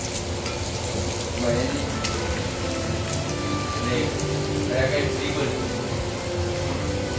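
An egg fries in a hot pan for village-style fried rice, crackling and sizzling loudly and continuously up close with a rain-like patter throughout.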